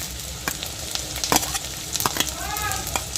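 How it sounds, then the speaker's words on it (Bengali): Onion and capsicum frying together in a pan, a steady sizzle broken by several sharp stirring knocks and spatters, close and moderately loud. "ক্যাপসিকামটা আপনার পেঁয়াজের সাথেই দিয়ে দেবেন"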